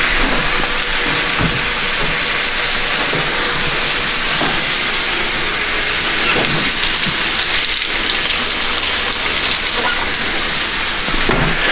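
Steak sears in a cast iron skillet with a loud, steady sizzling hiss and scattered pops, continuous and close throughout, with no talking.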